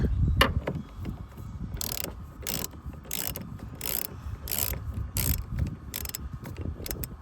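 A hand ratchet loosens a bolt on a 2019 Ram 1500, giving a steady run of rhythmic clicking bursts, about one per second, close and clear over a low rumbling background.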